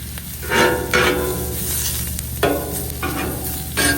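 Peppers and onions sizzling on a hot pan for a Philly cheesesteak, a steady close hiss broken by several scraping stirs and clatters of a spatula, with no talking.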